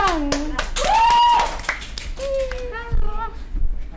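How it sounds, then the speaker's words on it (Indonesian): Several people clap in a burst to welcome a guest on a podcast, the scattered claps mixed with lively talking and exclamations close by. "Ayo tepuk tangan dong."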